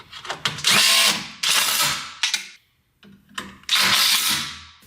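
A power drill drives a number 12 by 3/4 fastener during a sunroom installation, giving three loud, close whirring bursts of about a second each with short pauses and brief ratchety stutters between them.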